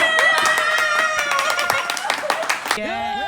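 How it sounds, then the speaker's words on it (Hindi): Sharp, separate hand claps ring out close by over loud, busy talk at home, then fade as the voices carry on. "तालियां।"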